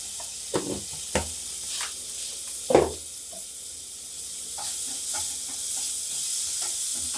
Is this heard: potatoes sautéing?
yes